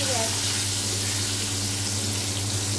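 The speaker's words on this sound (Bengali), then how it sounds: "মাছগুলো চেপে চেপে ভেজে নিতে হবে।" Rohu fish pieces fry in a hot pan, pressed down as they cook, giving a steady, dense sizzle and crackle close by that holds evenly throughout.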